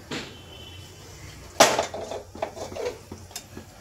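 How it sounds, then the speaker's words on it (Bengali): A pressure cooker is lifted off the stove and a kadai set down in a home kitchen: one sharp metallic clank, then several lighter clatters and scrapes of cookware, close and without talk. "এবার এটাকে নামিয়ে নিয়ে কড়াটা বসিয়ে নেব।"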